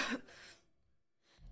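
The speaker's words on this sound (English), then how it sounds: "You've been coughing a lot." One short, harsh cough or throat-clear bursts out at the start, followed by near silence and a faint breath at the end.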